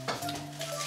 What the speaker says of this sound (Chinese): 小羊的羊排，滋滋冒油